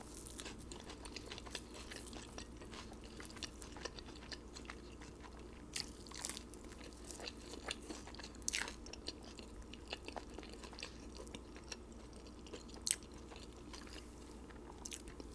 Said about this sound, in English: These fries are really good.